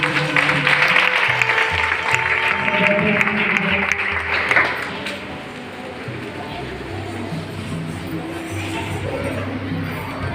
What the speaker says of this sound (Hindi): जोरदार तालियां मेरे यीशु के लिए।